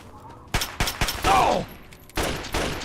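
A 10mm pistol fires in Fallout 3: about five sharp, close shots spaced unevenly, three in quick succession and a last one after a pause, with a brief ringing tail between them.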